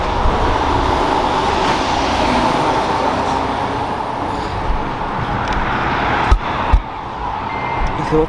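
A large truck rumbles past in steady, loud road noise that builds slightly, with a couple of sharp knocks near the end.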